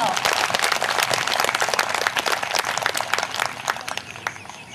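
An audience of about two hundred people at a Christmas morning gathering claps in a dense, continuous burst that stays loud throughout, with a voice faintly audible beneath it.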